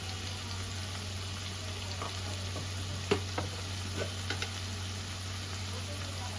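Red chilli, cumin, coriander and turmeric powders frying in a pan as they are stirred, a faint, even sizzle throughout with a few soft scraping ticks from the spoon.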